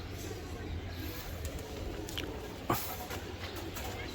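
Racing pigeon chicks of a Peter Janssen line coo in a low, steady murmur that runs throughout, close by, with a single sharp click near the end.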